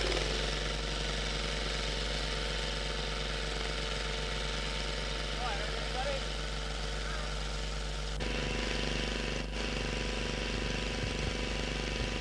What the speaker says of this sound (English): We did the AC power from the generator to a battery charging tent